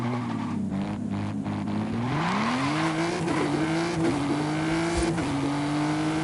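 Race car engine in Forza Horizon 5 revving up through the gears, a steady loud roar that climbs in pitch with tire noise, close and continuous with no talking.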